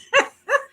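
Two short, loud dog barks close by, in quick succession with a brief gap between them, with no talk.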